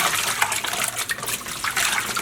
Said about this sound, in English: I am filling this up again. And, well, not enough water yet